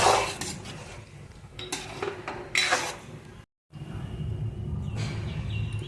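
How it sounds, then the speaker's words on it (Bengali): Boiled peas are stirred into a cooked spice masala in a pan for ghugni. A spoon scrapes and clinks against the pan in short, close strokes, with a brief pause partway through. "মটরটা ঢেলে দিয়েছি, এবার মটরটা মশলার সাথে মিশিয়ে নেব।"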